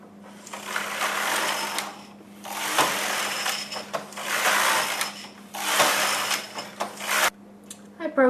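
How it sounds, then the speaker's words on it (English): Rows of full fisherman rib knitted on a Singer System 9000 knitting machine: four long rasping carriage passes separated by short pauses, loud and close over a steady motor hum, with a clack at the end. "I'm going to knit some rows of full fisherman rib"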